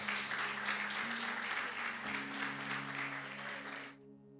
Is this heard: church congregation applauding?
yes